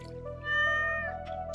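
A cat meows in the video game Stardew Valley, one long drawn-out tonal meow heard alone and fairly close, over a steady game hum with no talk.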